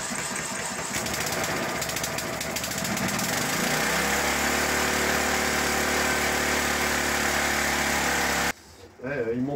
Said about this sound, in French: il monte beaucoup trop dans les tours et puis il tient pas le ralenti